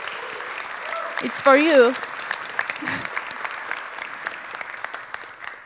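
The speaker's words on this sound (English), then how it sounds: "So let's give them applause." Applause from a conference audience honoring the organizers rises and fades, with a short spoken remark and some voiced sounds over the clapping.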